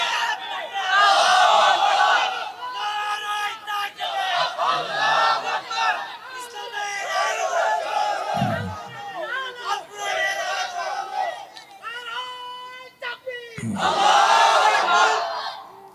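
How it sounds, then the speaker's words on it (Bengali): A large crowd at an Islamic religious sermon chants the takbir in loud unison, several sustained shouted calls rising and falling over about sixteen seconds, with a voice leading between them. "দাও তাকবীর একটা দাও"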